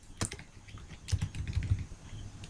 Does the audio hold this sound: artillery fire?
no